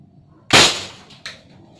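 A modded AT-15 spud gun fires one sharp, loud, close pop, followed moments later by a fainter second crack or impact.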